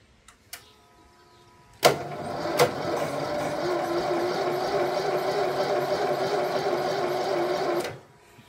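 A 1983 John Deere 116 lawn tractor engine strains to crank, a steady labored whirring drone after a couple of sharp clicks, holding for about six seconds before cutting off, close and fairly loud.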